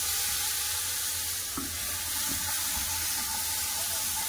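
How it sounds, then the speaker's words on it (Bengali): A ground paste of ginger, garlic, green chili and onion sizzles in hot oil with whole spices such as cardamom, giving a steady hiss with a few soft stirring clinks, moderately quiet and close. "এবার যে মশলাটা আমি বেটে দিয়েছিলাম সেটা দিয়ে দেবো।"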